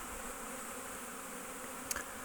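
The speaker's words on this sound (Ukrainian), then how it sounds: "гул на пасіці." Steady buzzing of many honeybees droning together at an apiary in spring fills the background evenly, with a brief louder flick near the end.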